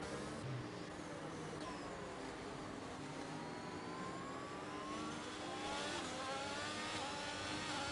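A Williams and two Ferrari race cars battle in a racing game set at a Canadian circuit, giving a continuous faint engine whine with rising and falling pitch as the cars rev and shift, steady and distant.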